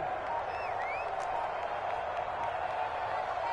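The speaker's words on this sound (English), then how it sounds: "that might be exactly what they needed to wake up this home crowd" A home crowd roars with continuous cheering and applause in the Madden football video game, a steady dense wash with faint whistles on top.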